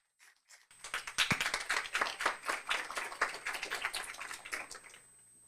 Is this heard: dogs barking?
no